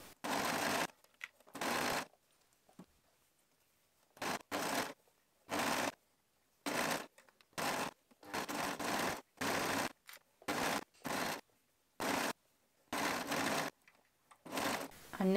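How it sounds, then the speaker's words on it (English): Sewing machine stitching the rest of a jersey top seam, running in short bursts of a second or so separated by silent pauses, close and steady, with no talking. "and then we go and sew the rest of the seam"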